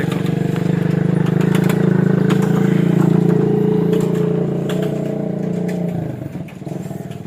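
A Massey Ferguson MF 240 tractor engine runs at a steady, loud, throbbing idle close by, then its tone drops and roughens near the end.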